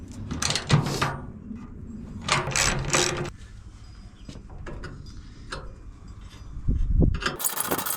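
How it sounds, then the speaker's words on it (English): Old rusty bolts on a wheelbarrow are tightened by hand with a ratcheting tool, giving bursts of rapid metallic clicking and scraping close up, separated by quieter pauses and a few sharp knocks. "So let me tighten these up and then we'll get to the handles."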